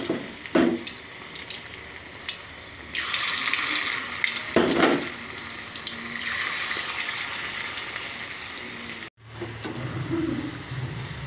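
Battered fish-head fritters coated in gram-flour batter go one by one into hot oil, giving a continuous sizzling hiss with sharper surges each time a piece drops in, at moderate level and without speech.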